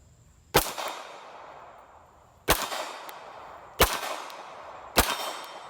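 A CZ P-07 pistol fires four hollow point rounds at a range, each a sharp, loud crack with a short ringing decay, spaced about a second or two apart.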